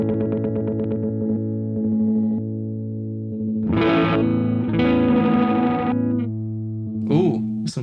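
A guitar played through a modulating effects pedal with an LFO setting: sustained chords shimmer and warble, then bursts of bright, gritty, wobbling tone rise and fall across several seconds before the sound cuts back.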